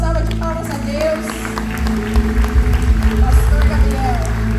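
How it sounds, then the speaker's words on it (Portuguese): Church congregation applauding together, a dense, steady wash of many hands clapping that swells toward the end, loud and close, with a voice and a low musical drone underneath. "Você pode dar uma salva de palmas a Deus."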